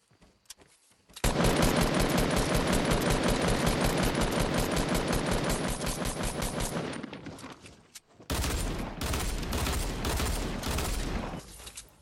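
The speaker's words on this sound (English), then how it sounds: "So that other guy is shooting at him." Rapid automatic gunfire in the video game Fortnite rattles loud and dense for several seconds, then cuts out briefly before a second burst of shots.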